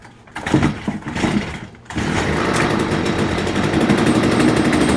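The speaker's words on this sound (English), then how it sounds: "And then we'll cold start my weed whacker" A weed whacker cold starts: after a couple of rough pulls the small two-stroke engine catches at about two seconds and runs on at a loud, steady, buzzing high idle, close to the microphone.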